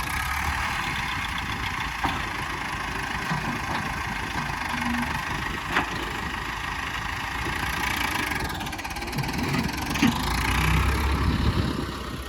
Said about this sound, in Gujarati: અવાજ હજી પણ તમે જોઈ શકો છો, એકદમ ક્લિયર છે, એન્જિનમાં કોઈ પ્રોબ્લેમ નથી